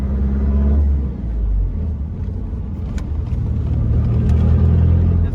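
A 2018 Isuzu D-Max 1.9 turbo diesel pickup with a remapped engine and modified turbo rumbles loudly at close range, its deep exhaust throbbing steadily with a slight rise in revs.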